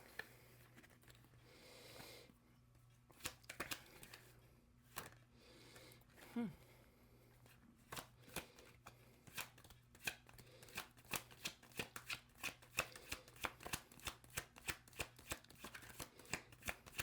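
Tarot cards are shuffled by hand, close and quiet, with repeated sharp riffling flicks that grow denser and more rhythmic toward the end, under occasional soft talk.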